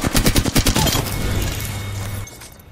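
Apex Legends gunfire opens with a rapid burst of about ten sharp shots in under a second, then a rumbling tail that fades out.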